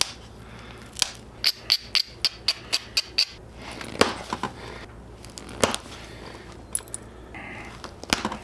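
A hammer stone strikes a stone core during flintknapping, a rapid run of sharp, close clicks in a steady rhythm, then a few spaced, heavier knocks with pauses between them.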